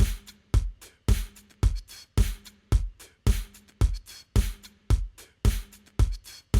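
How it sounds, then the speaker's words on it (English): Beatbox groove built from kick and snare samples in GarageBand, a tight, repeating punchy pattern looping evenly at a steady tempo, clear and up front. "So I'll add samples for kick and snare and sometimes hi-hat as well."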